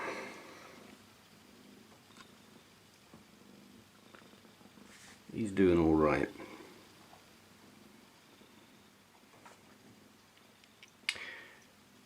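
A male cat with pancreatitis purrs softly and close by, with a louder vocal burst near the middle and a sharp click near the end, while a person speaks briefly.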